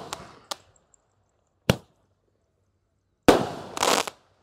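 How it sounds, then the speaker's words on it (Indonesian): Roman candle fireworks fire outdoors in the morning, giving a few sharp scattered pops, then a louder double burst with a hissing crackle near the end, each shot close and distinct against silence. "10 Romain candle berhasil menyala."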